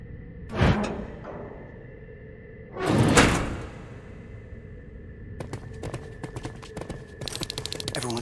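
A door opens in the video game Terminator: Resistance with two heavy whooshing slides a few seconds apart. Sharp metallic clicks and rattles follow and build toward the end.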